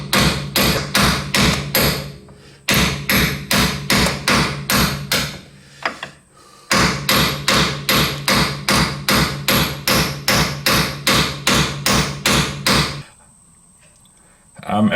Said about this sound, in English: I was attempting to tap the bushing in